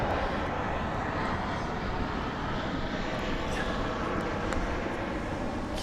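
A fixed-wing airplane drones steadily overhead for about six seconds, a broad continuous rumble with no talk.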